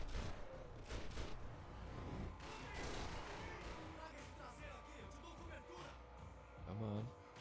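Gunfire in the video game Max Payne 3 rattles in dense, continuous volleys beneath a player talking, with a thick, steady din of shots throughout.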